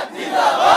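Massed voices at a Bengali Islamic preaching gathering shout a takbir chant back in one sustained, swelling roar, loud and close, with no single speaker standing out.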